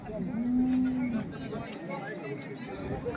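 A single low cattle moo rises early and fades, with crowd chatter and bustle continuing underneath at the large Salegaon bull market, which also sells cows, buffalo, goats and sheep.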